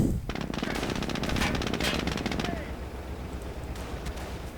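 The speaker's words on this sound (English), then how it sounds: "Bit of light firing going on there" Light gunfire in a World War II real-time strategy game, dense rapid bursts of machine-gun rattle that thin out toward the end, with a voice talking over them.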